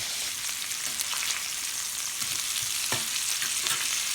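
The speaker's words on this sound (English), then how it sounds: "our bacon is coming along just fine here" Peppered bacon fries on a Blackstone griddle with a steady, close, loud sizzle, broken by occasional soft scrapes and ticks as the strips shift.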